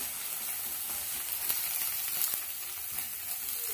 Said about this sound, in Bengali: ডিমটা দেখুন ভাজা হয়ে গেছে